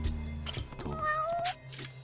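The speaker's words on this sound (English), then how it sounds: "We're gonna wait to hear that meow." A cat meows near a refrigerator in a dessert-themed setting, a few short rising cries over low background music, close and fairly clear.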